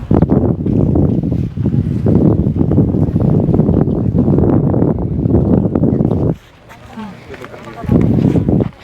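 Gusty wind buffets the microphone in loud, rumbling bursts on a strawberry farm in Baguio, with a short quieter lull near the end before it picks up again.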